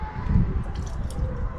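Lemon juice squelches and drips into a margarita mixture in a brief, close, wet splash of low squishing liquid sounds.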